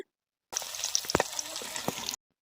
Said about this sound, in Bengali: আর এখানে চিকেন ফ্রাই করা হচ্ছে।